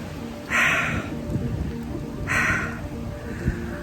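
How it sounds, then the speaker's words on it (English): Rain falls steadily during a thunderstorm, swelling in two louder bursts of hissing downpour over a low, continuous rumble. No voices are heard. "instead I've ended up in a thunderstorm"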